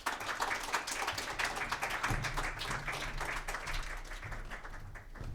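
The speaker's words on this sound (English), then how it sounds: "Take a round of applause." A crowd applauds steadily for several seconds, dense overlapping claps from a room full of people, moderately loud and fading slightly at the end.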